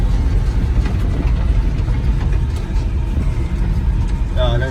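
Old Chevy K40 truck engine running in second gear while driving, a loud steady low rumble filling the cab with people talking over it.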